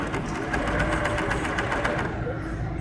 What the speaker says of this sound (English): now it's just doing a regular chain stitch